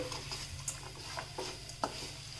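Grated fresh coconut and pepper powder being mixed in a pan for pepper coconut rice: faint, close scraping and stirring strokes in a loose rhythm over a low background, with no voices.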